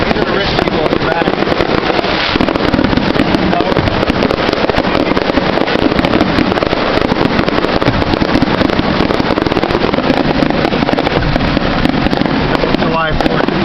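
An illegal Fourth of July fireworks show on a Dunedin street: dense, continuous crackling and popping bursts, loud and close, with wind rumble and a voice talking beneath the constant barrage.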